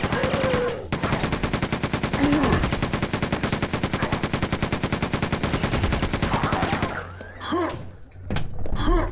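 Sustained rapid machine gun fire in the Quake 2 game, a loud continuous burst of rhythmic shots that stops near the end, followed by a few brief effects.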